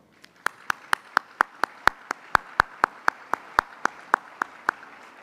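A single pair of hands claps in a steady, evenly spaced rhythm, about twenty crisp sharp claps at an awards banquet, close and alone with no crowd or voices.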